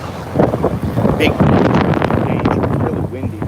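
Strong wind buffeting the microphone in loud, rumbling gusts, with voices partly audible underneath, on a morning walk in Kanchanaburi, Thailand.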